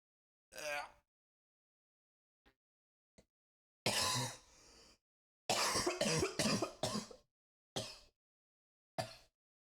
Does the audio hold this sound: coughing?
yes